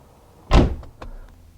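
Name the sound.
Corvette C4 rear hatch opening via door panel button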